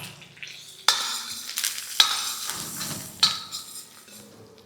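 Curry leaves and turmeric frying in a pan for mint rice, with sharp stirring clatters at about one-second intervals over a steady soft sizzle, close and moderately loud.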